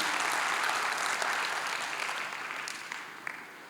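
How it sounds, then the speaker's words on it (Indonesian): Indonesian church congregation applauding for Jesus during a sermon, an even, sustained roar of many hands clapping that slowly fades toward the end, with a few distinct claps near the close. "Berikan tepuk tangan buat Tuhan Yesus"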